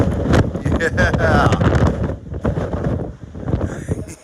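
Heavy wind buffeting a microphone on the deck of the cruise ship Carnival Celebration, low rumbling gusts that rise and fall throughout, with faint voices underneath.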